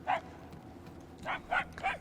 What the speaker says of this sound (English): I can see little puppy Cosmo.